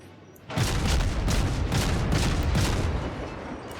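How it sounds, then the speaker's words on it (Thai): Main guns of the Dresden warship in World of Warships firing a heavy salvo, a sudden loud boom followed by rolling, rapid blasts that sustain for several seconds and slowly taper, with no talk. "เดี๋ยวโชว์ศักยภาพของปืนใหญ่ลำนี้ให้ดูนะ ว่ามันอลังการขนาดไหนนะ"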